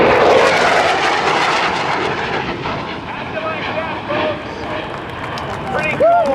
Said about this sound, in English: your Navy's Hornet high speed pass.